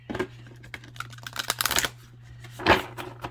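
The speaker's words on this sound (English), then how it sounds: "They're kind of tough to shuffle for sure. And I'm going to shuffle a bunch." A few bursts of riffling shuffles of a stiff oracle card deck, crisp and close, with brief pauses between them and a steady low hum underneath.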